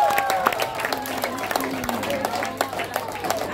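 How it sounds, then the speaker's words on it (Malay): Sunday school audience at a church verse memorisation contest gives a short round of applause, scattered claps over chatter and voices talking nearby. "Oke, bagi tepukan."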